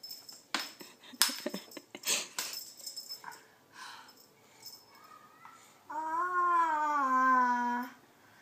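A cat lets out a long, drawn-out meow near the end, after scattered clinks, rustles and a child's babbling sounds.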